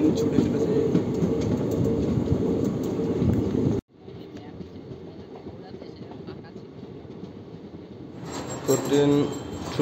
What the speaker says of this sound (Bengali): ট্রেন ছুটছে